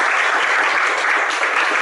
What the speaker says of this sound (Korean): 나오셨을 때 박수 좀 많이 주세요.